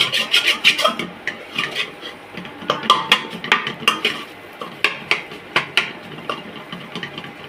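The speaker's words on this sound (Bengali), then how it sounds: "এখন ডিমটাকে ভালো করে নেড়ে নেব" Beaten egg stirred briskly in a bowl or pan, a quick rhythmic run of clinks and scrapes from a utensil, close and clear, with no voices.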